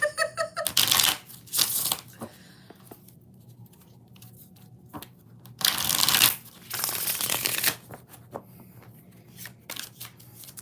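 Tarot cards riffle-shuffled in several bursts at close range, with quieter handling and soft card taps between the louder shuffles.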